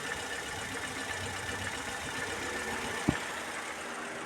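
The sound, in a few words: Fiat Uno electric radiator fan running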